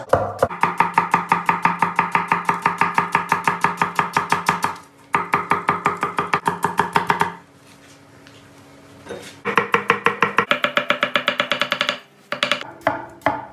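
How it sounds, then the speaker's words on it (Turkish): Rapid, steady knife chopping of lentil soup ingredients on a board, finely diced, quick rhythmic taps in long runs with brief pauses between bursts, close and loud. "Önce malzemeleri çok ince bir şekilde doğrayacağız."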